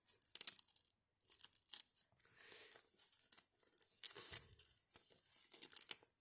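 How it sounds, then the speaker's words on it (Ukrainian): Close crinkly plastic being torn open in several quick rips and rustles, with short pauses between bursts and no talking. "Але спершу відкриємо цей пакетик."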